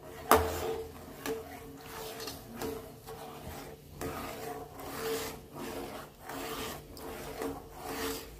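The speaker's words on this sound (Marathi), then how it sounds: "गॅस कमी करून घेतला आणि सातत्याने हलवत राहायचं आता" A spoon scrapes and rubs steadily against the bottom of a pan of thickening milk for rabdi on low heat, making a soft repetitive rasping close by.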